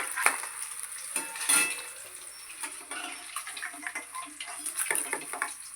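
Cauliflower pieces go into hot oil left over from frying rohu fish for a curry, giving a steady close sizzle with scattered scrapes and clinks of a utensil in the pan, no talking.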